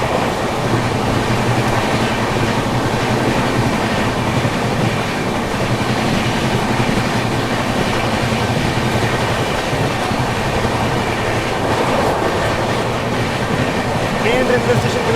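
The Mumbai Duronto Express rolls along the tracks with a continuous loud rumble and clatter heard from inside the train, steady throughout.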